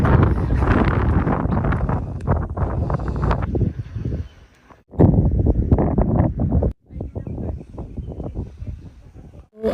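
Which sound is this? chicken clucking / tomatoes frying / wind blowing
wind blowing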